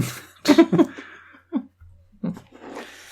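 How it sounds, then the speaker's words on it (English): Several rough coughs come in short bursts, a pair close together, then a few more isolated hacks after brief silences, loud and near. "Don't ever cough while I'm talking."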